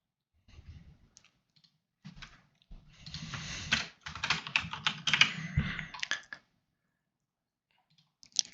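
Computer keyboard typing and mouse clicks during setup of a Lancer game system in Foundry VTT, heard as quiet scattered clicks that become a dense, steady patter of keystrokes for a few seconds and then stop.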